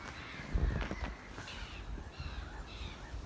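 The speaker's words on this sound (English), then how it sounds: "There's a lot of arguing going on amongst those birds." Crows caw harshly and repeatedly beside a pond where many water birds gather, several rough calls overlapping at moderate distance, with no one speaking.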